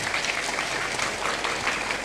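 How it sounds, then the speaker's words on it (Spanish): A crowd applauds steadily, dense clapping filling the whole stretch at an even, fairly loud level with no voices breaking through. "Si usted puede aplaudir, aplauda."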